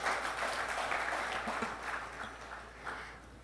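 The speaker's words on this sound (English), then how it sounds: "A big round of applause for him," An audience at the Explosafe 2016 conference claps for an introduced speaker, a moderate, fairly even patter of hands with a few sharper claps standing out, heard from within the hall and easing off toward the end.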